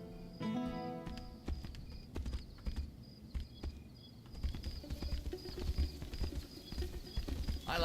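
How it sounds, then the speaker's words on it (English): Horse hooves clip-clop in a steady walking rhythm in the fantasy game Tainted Grail: The Fall of Avalon, close and moderately loud over faint ambient tones and birds. "Now I have a horse."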